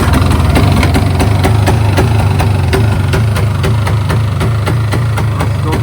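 A 1992 Polaris 350 2x4 ATV engine idles steadily in minus ten degree cold, a loud, close, continuous low chugging with a regular knocking pulse and no talk.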